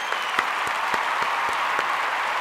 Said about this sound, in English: We give a round of applause, of course, for John Fallon